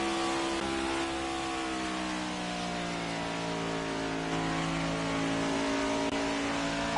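Onboard engine of the number 92 race car during a D1 Championship race, a steady, fairly faint drone that holds near a constant pitch at sustained revs, with no voices.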